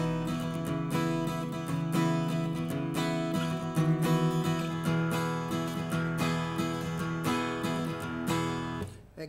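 Chorus chords strummed on a fretted instrument, a steady run of bright, full strokes that keeps going close and clear for several seconds before stopping abruptly, with no voice.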